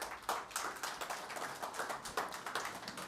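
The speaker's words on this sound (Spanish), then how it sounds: "vamos a recibirlos con fuertes aplausos" Applause from an audience at a mining technology and research conference in Peru, welcoming a speaker; a dense, fairly soft patter of many hands clapping at moderate distance, with no talk over it.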